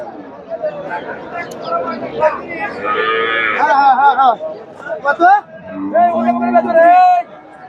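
Friesian dairy cows and calves at the Chandaikona cattle market moo loudly and close, with several drawn-out calls over a busy hum of crowd chatter and talking.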